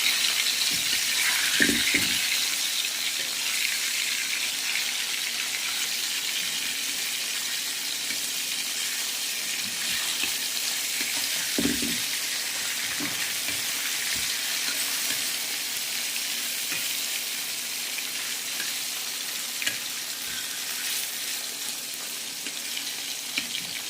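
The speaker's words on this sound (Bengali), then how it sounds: "কড়া করে ভেজে নামিয়ে নেব।" Cut cauliflower and potato pieces frying crisply in hot oil in a pan, a continuous bright sizzle with occasional soft thumps as the pieces are turned, no talking.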